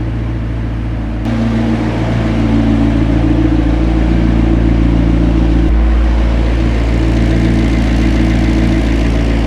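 A McLaren sports car engine with engine control faults idles close by, a steady loud rumble with a small shift in tone partway through.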